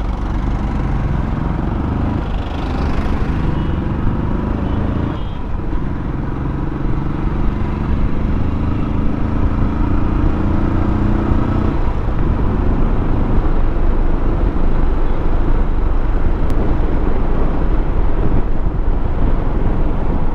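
A motorcycle engine drones steadily at a constant pace on cruise control, with wind rushing past the microphone throughout and no throttle changes.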